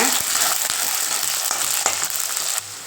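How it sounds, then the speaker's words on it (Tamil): Onions, a handful of garlic and a sprig of curry leaves fry in a pan for pepper curry, giving a constant bright sizzle with periodic scraping stir clicks, close and fairly loud, ending slightly quieter. "வெங்காயம் நல்லா வதங்கிடுச்சுங்க"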